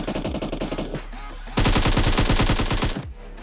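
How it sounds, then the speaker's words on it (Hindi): Automatic gunfire from a battle royale video game rattles in rapid loud bursts, one burst breaking off briefly before a second, denser stretch of fire. "लेकिन इसके ऊपर कोई फायर कर रहा था"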